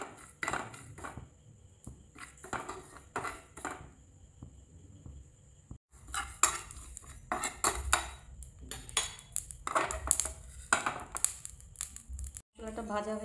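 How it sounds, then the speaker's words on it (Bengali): Spices are dry-roasted in a pan for a Bengali sweet mango pickle, heard as quiet metallic clinks and scrapes of a spatula stirring in bursts. Pauses separate the bursts, and a voice speaks now and then. "এই মশলাগুলো ভেজে নেব।"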